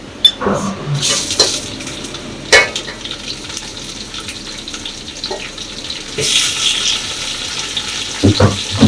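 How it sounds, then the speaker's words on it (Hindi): Chicken sizzles in a pot with light-browned onions for a vegetable pulao, a continuous close frying hiss with occasional clinks and stirring scrapes and a louder surge of sizzling later on. "अच्छा जी, ये हमारे प्याज ब्राउन हो गया, लाइट ब्राउन। अब हम इसमें चिकन डालेंगे।"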